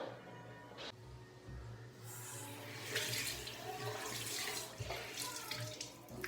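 Tap water runs steadily into a sink while someone washes their face, with splashing bursts as hands scoop and rinse, close and continuous throughout.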